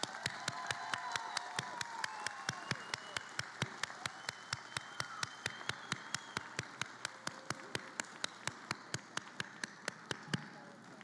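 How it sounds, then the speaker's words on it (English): Master's degree candidates in Educational Leadership and Foundations receive a round of applause at a university College of Education pre-commencement ceremony; steady, fairly faint clapping with sharp regular claps near the microphone over a soft crowd wash. "Please join me in a round of applause for these master's degree candidates"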